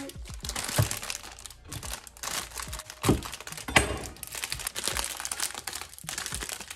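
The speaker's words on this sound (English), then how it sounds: "Now I'm going to open the beautiful flower arrangement." Crinkly plastic or cellophane wrapping around a bouquet of flowers crackles and rustles in close, irregular bursts with a few sharper crunches, no talking.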